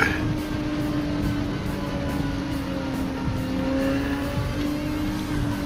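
Nissan Nismo GT3 race car in Gran Turismo 7 driving through Tokyo city streets and tunnels, a steady engine drone with shifting pitch and brief tire noise, loud and continuous.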